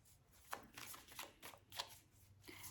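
Tarot cards are shuffled by hand in a quiet room, a series of soft riffling bursts in an uneven rhythm, close but faint.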